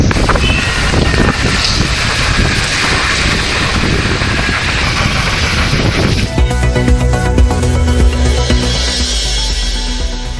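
Strong gale winds sweep through Avadi during heavy rain, making a loud, continuous roar that buffets the microphone for about six seconds. Music then takes over with no talking.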